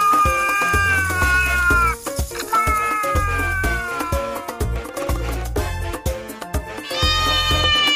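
A Bombay cat in an animated zoo cartoon meows in drawn-out, sliding cries, woven into a loud, continuous musical backing with steady rhythm throughout.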